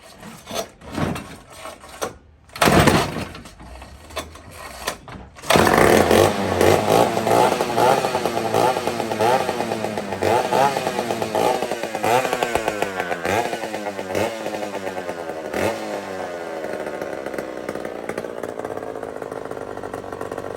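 An old, rusty, rare chainsaw with no muffler: a few rough pulls and sputters, then the engine catches and runs loud and raspy, its pitch wavering as the throttle is worked, close by with no talking.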